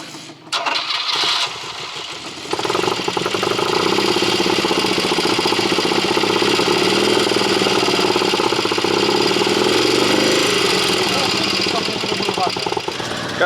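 Opposed-twin BMW boxer engine on a motorcycle cranks and catches after a couple of seconds, then runs loud and close with a rough, uneven idle that misfires, sputters and pops.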